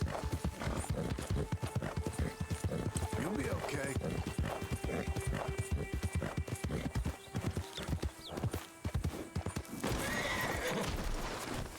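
Horse in Red Dead Redemption 2 trotting with steady clip-clop hoofbeats and loud whinnies, while someone talks over it throughout.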